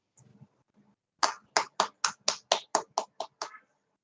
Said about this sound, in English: Please don't clap for me.